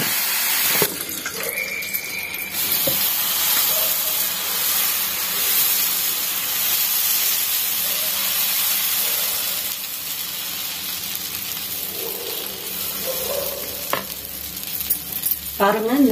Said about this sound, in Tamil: தோசை ஊற்றிடணும்